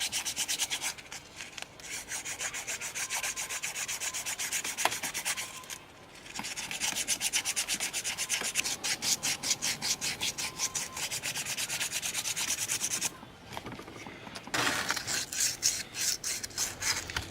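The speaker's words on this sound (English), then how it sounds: "What we're doing is trying to get rid of all the rust on the taper." Dense, continuous scrubbing as rust is rubbed off the tapers of a go kart engine crankshaft and flywheel, a fast rasping back-and-forth close up that pauses briefly twice before resuming.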